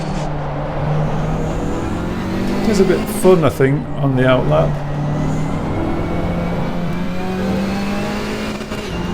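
KTM X-Bow race car engine in Assetto Corsa Competizione, droning steadily at moderate revs on a track out-lap, with a brief rise and fall in pitch midway while someone talks over it.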